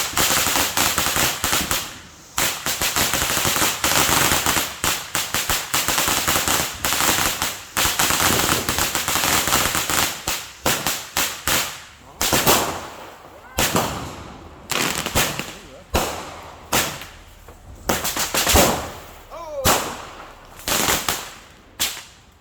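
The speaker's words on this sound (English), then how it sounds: "Why did you guys buy deadly fireworks?" Fireworks at a house burst in rapid, crackling volleys and scattered sharp bangs, loud and close, dense at first then thinning into separate pops, with some voices in the background.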